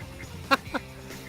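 Ducks on a small pastured farm give two short, close quacks a moment apart against quiet outdoor background.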